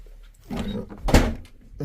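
A door inside a house with a heated-floor corridor is pushed shut, a shuffling approach followed by a single solid thump close by, with no talking.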